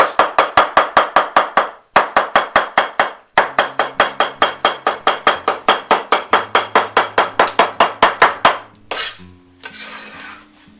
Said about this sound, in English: Now we have it on the chopping board. We just cut it in strips.